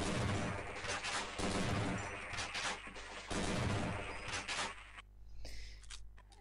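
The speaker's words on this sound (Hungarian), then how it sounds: "Nagyon jól jön különben ez a dupla lövés" Double-barrel shotgun fire in Half-Life, loud dense blasts and bursts packed through the first five seconds, then dropping to a quieter low rumble with faint scattered sounds.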